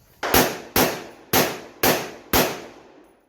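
Five unsuppressed gunshots from a Steyr AUG rifle on an adjusted gas setting, loud sharp cracks spaced roughly half a second apart, each trailing off into a short echo, with no voices.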